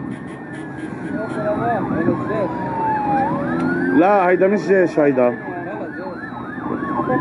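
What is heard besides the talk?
ambulance sirens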